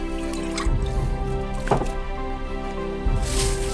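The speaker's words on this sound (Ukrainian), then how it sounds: "наливаю стакан водички" A glass of water is poured into a multicooker while homemade sausage is being made, with soft splashing and liquid sounds, a couple of sharper knocks, and nearby clatter, close up and fairly quiet.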